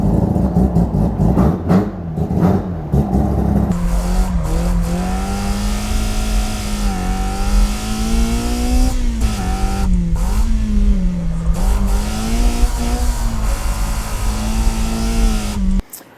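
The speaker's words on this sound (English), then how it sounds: "you'll be able to hear the ITBs because this car has factory ITBs, individual throttle bodies" A BMW Z4 M Coupe with factory individual throttle bodies and a carbon CSL airbox revs loudly and close, the induction note rising and falling through several sustained pulls before cutting off at the end.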